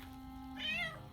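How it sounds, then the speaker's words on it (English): A giant cat in Baldur's Gate 3 lets out a single clear meow, rising and falling over about half a second against a quiet game backdrop with a low steady hum. "fox or cat? It's a giant cat."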